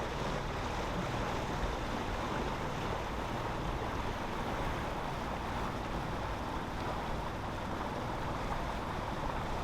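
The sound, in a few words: wind at sea while sailing in Alaska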